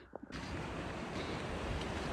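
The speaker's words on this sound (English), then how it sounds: "The not so roaring river, although it's more than I expected." A modest river in Rocky Mountain National Park rushes with a steady, broad wash of flowing water, continuous and fairly close with no voices.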